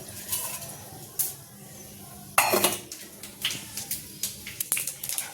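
Spatula clinks and scrapes against a pan while masala fries on a low flame, a series of close, sharp metallic taps in irregular bursts over a faint sizzle.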